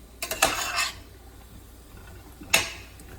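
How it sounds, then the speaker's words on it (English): Cauliflower and potato curry stirred slowly in a pan, with a cluster of clinking, scraping utensil strokes at first and then one more sharp clink after a quiet pause. "We have to stir it a little slowly,"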